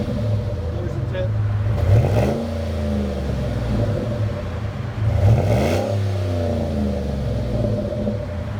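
2011 Chevy Silverado with a 5.3L V8 and Flowmaster 40 Series exhaust with double-wall dual tips: a deep idling rumble, swelling into two throaty revs that rise and fall back, close by.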